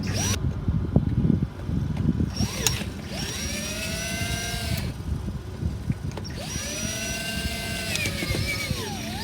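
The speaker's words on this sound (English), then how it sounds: "Take my cordless drill" A cordless drill whines in repeated bursts, pitch rising and falling as it bites into an RV awning's metal track, with clicking and handling noise between runs.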